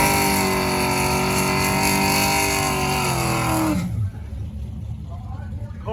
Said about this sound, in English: doing his John Force Jr. burnout